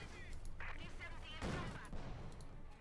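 Gunfire from a sniper rifle in the World War II strategy game Company of Heroes 2, one sharp report rising out of a dense, continuous wash of battle noise, with a commentator's voice over it.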